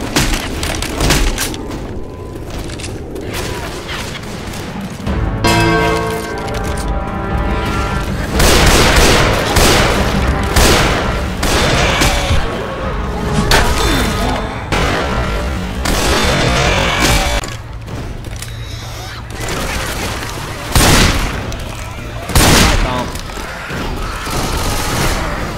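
Left 4 Dead 2 gunfire rattles in loud overlapping bursts and single booming shots, close and dense throughout, with brief lulls between volleys.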